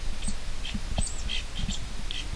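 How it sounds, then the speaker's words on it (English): Small flycatchers chirp in the Kaudia forest at Kanatal, giving short, high tweets scattered every fraction of a second over a steady low rumble of outdoor background noise. "Looks like some flycatchers."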